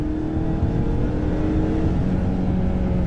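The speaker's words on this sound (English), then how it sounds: "Let's feel the power now in the Maverick." A Ford Maverick small pickup truck accelerating, a steady, loud engine drone with rising tone heard from inside the cab, no talking.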